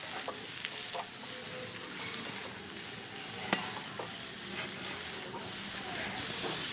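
Mixed vegetables fry in a pan with a soft, continuous sizzle, punctuated by occasional spoon taps and stirring scrapes, fairly quiet and close, with no speech.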